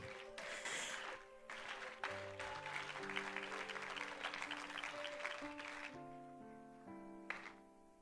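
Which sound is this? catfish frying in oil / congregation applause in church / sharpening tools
congregation applause in church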